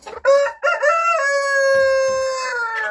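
A rooster crows loudly and close in a henhouse, one long drawn-out cock-a-doodle-doo with a couple of short clucks from the chickens before it, and no talking.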